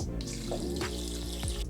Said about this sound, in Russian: Заливаем каркасы холодной водой.